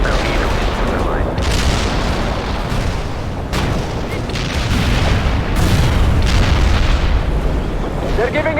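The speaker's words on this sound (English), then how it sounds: "Launching a barrage. Artillery strike on the way." Heavy artillery barrage explosions in the World in Conflict strategy game, a dense, loud sequence of deep booms and rumbling blasts rolling on throughout, with a brief voice near the end.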